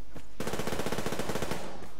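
Automatic gunfire in the online shooter Survarium, a loud rapid burst of evenly spaced shots that starts abruptly and runs for well over a second before cutting off, with no talking.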